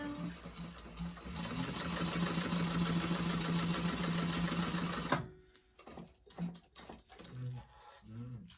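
A sewing machine topstitches an eighth-inch seam on a convertible backpack, running in a steady close whir for about five seconds before stopping, followed by quieter handling sounds and brief murmurs.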